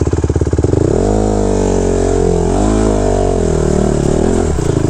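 A 2014 Honda CRF 150R dirt bike engine revs loud and close on a test ride, rising from a brief choppy idle into a sustained high-pitched drone that swells and dips with the throttle.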